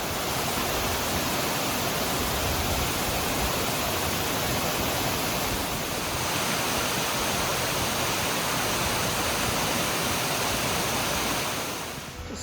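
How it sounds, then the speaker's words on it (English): King Creek Falls, a trailside waterfall, roars in a dense, continuous broadband rush that stays loud and steady throughout, with no voices. "That was one of the best waterfalls I've ever seen on a trail."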